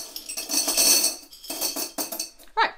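Loose coins clink and rattle as they are tipped into a jar, a dense metallic jingle in several close bursts separated by short pauses, ending in a sharp final clatter.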